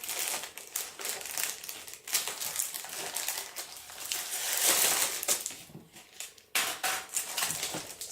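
Paper packaging around metal cutting dies crinkles and crushes up close, a loud continuous ruffling with sharp crackles and brief pauses.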